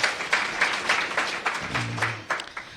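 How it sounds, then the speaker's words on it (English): An audience at a regulatory authority's ISO certification celebration gives a round of applause, a modest group clapping in rhythmic pulses at middling distance, brief and fading, with a faint voice partway through. "Another round of applause for Mohoko."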